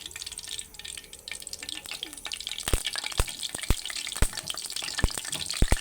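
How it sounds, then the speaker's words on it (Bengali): Mustard oil poured into a hot wok (kadai) to heat before frying hilsa fish heads, heard as a soft steady hiss with scattered clicks and sharp ticks growing more frequent toward the end. "এবার এর মধ্যে আমি দিয়ে দিচ্ছি সর্ষের তেল"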